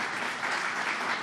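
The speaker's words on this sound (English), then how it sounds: "Big round of applause to the governor there." An audience applauds the governor of New York at a transit infrastructure announcement on Long Island, a dense, steady wash of clapping heard alone at moderate volume.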